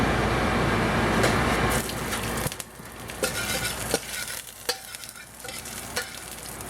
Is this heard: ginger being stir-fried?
yes